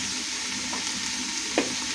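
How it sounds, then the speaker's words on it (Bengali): Garlic fries in a pan with a dense, even sizzle close by, hissing steadily throughout with one brief soft knock near the end. "আমি এখন এইভাবে 2 মিনিট ভেজে নিব, কাঁচা রসুনের ঘ্রাণটা যাওয়ার জন্য।"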